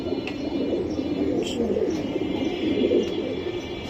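An old-breed Mayna pigeon coos steadily and low, a soft continuous murmur close by with no voices over it.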